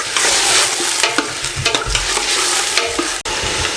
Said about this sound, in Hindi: ये 2 से 3 तेज़पात शामिल करते हैं और इसको अच्छे तरीके से इसकी भुनाई कर लें 3 से 4 मिनट।